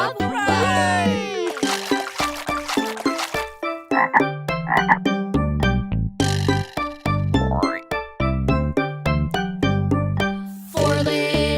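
Frogs croak loudly in quick, bouncy bursts, a busy string of short, tonal calls that pile up one after another with hardly a pause, mixed with voice-like tones.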